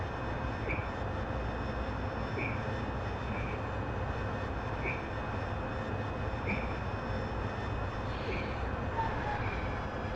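An AV-8B Harrier's jet engine drones steadily through a climb, a continuous broadband roar with a constant whine on top and faint periodic chirps, heard alone without talk.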